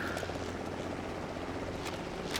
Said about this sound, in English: Alright, here's the helicopter, guys.